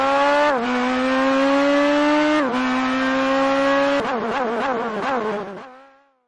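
Big old American Cadillac race car powering up the Pikes Peak hill climb: a loud, close engine holding a high droning pitch with brief gear-change dips, then rapid wavering revs before it fades away.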